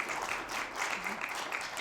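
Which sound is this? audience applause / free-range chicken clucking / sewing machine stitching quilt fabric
audience applause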